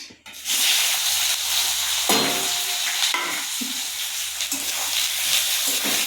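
Chopped onions, three big ones, sizzle steadily in hot oil in a pan for chire pulao. The frying hiss is loud and continuous, with a few soft clinks and scrapes of stirring.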